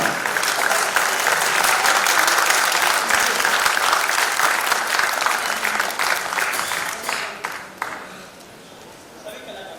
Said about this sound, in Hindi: आप बहुत अच्छे से ताली बजाएं